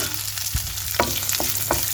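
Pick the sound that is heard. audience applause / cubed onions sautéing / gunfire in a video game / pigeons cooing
cubed onions sautéing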